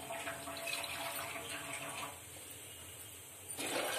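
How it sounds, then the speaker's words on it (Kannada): Water is poured into a small pot with a steady gushing splash that drops in level midway, then swells again at the end. "2 ಚೆಂಬು ನೀರು ಹಾಕಿದ್ದೀನಿ."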